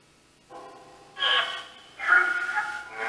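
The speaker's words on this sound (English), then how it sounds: "Why are you gasping?" A person gasps in a quiet room at the Clown Motel in Tonopah, Nevada, giving three short, sharp breathy intakes one after another, close and fairly loud, with no talking.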